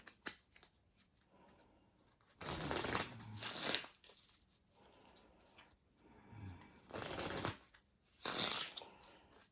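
Power Failure game cards are shuffled in four crisp, riffling bursts of roughly a second each, close and clear, separated by quiet pauses with faint handling.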